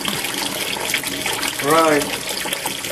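Faucet water splashing continuously into a sink while a quarter is lathered and scrubbed, close and steady, with a man's brief spoken remark over the flow.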